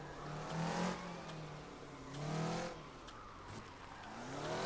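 A car engine in the CarX Drift Racing video game revs and surges while drifting, rising and falling in pitch with two louder swells over a steady, continuous drone.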